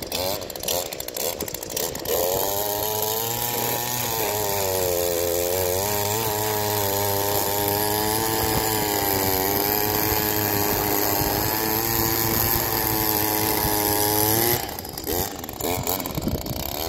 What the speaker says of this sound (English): we're going to show you an Echo PAS system here with a Pro Paddle Broom on it